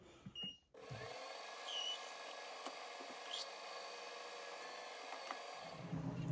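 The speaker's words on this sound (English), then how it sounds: "I have to use a brass drill, which is nothing but a blunted drill" A steady, high-pitched mechanical whine from a blunted brass drill runs for several seconds, close and fairly quiet, with faint scraping ticks and brief squeals, while drilling a part for a hit-and-miss engine camshaft.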